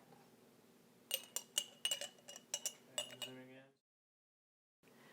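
A spoon guides apricots into a glass canning jar, making about a dozen sharp, bright clinks in an irregular run, close by, followed by a brief silence.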